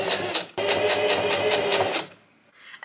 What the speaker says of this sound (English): now I'm sewing them up before I sew them on